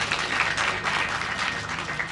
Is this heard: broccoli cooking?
no